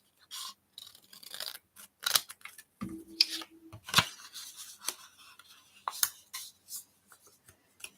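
Scissors snip craft paper tulips in short, quiet, irregular cuts with small rustles between them, close by and with no talk.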